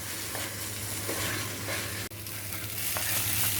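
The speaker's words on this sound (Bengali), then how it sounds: "আমার চালটা ভাজা হয়ে গেছে" Rice being fried and stirred in a pan for white pulao, a constant crackling sizzle with spatula scrapes and stirring, close and steady, no voices.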